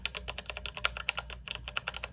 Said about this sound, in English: my favorite keyboard sound, this is my keyboard, but it's brown switches.